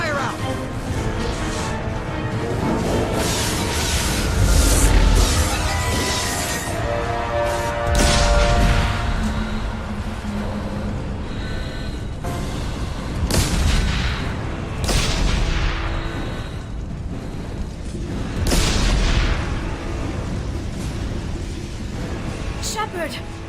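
Explosions and hull breaches aboard a starship in Mass Effect 2, with deep booms and crashes rolling over a constant loud roar, several heavy blasts standing out, and voices speaking beneath the chaos.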